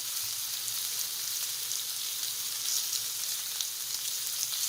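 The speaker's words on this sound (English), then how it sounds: "I am going to let it cook for another 3 to 4 minutes on the other side" A salmon steak frying in a pan makes a continuous, fairly soft crackling sizzle, even and unbroken throughout.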